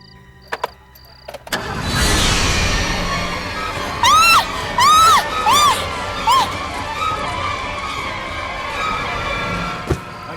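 A car engine cranks and starts at about 1.5 seconds, then runs at a steady, fairly loud idle with a few short high whistling sounds over it.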